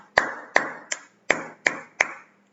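Six sharp, distinct hand claps at an uneven rhythm, close and crisp, each with a brief ringing decay and no voices.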